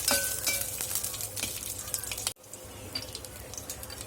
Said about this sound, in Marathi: आपण यामध्ये मिरच्याचे तुकडे घालून घेणार आहोत आणि छान याला परतवून घेणार आहोत